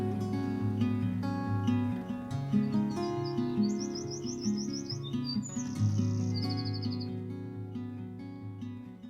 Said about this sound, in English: the sound of the distinctive St Kilda wren